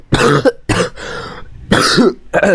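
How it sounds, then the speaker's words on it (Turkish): A few harsh coughs and throat clearings come close and loud in short bursts, with brief pauses between them, alone and without speech. "Ben bir öksüreyim."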